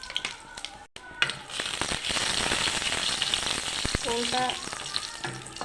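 Whole cumin seeds and dry red chilies crackle and sizzle loudly in hot oil, a dense continuous spitting hiss that starts with a sharp burst and runs steadily on. A voice briefly speaks over it near the end.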